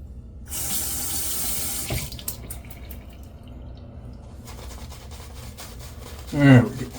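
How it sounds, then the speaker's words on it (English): A sink tap runs in a bathroom or kitchen, hissing strongly for about a second and a half, then trickling more quietly, with a short low rumbling gurgle near the end. "I'm gonna go straight to the sink instead of spraying it."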